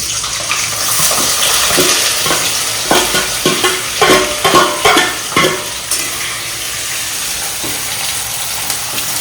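Sliced onions hit hot oil for crisp fried-onion beresta for a Lucknow-style biryani, a loud steady sizzle with a burst of crackling and stirring clatter in the middle, no talk.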